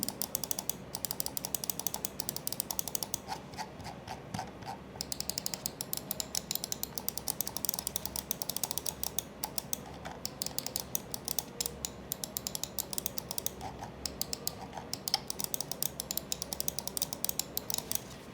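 A Fantech Tanto gaming mouse with Huano Transparent Green Shell White Dot switches clicks rapidly and continuously, a dense, close, crisp clatter with no talking.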